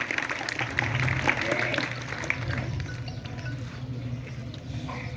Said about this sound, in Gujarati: મિત્રો, તાળીઓ વગાડી સન્માન.